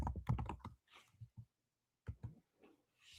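Fingers type on a computer keyboard in quick bursts of close clicking, pausing briefly between runs of keystrokes.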